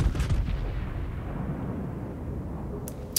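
A German battleship, the Friedrich der Große, fires its main guns in World of Warships, a deep booming blast rolling into a long, heavy rumble, loud and alone.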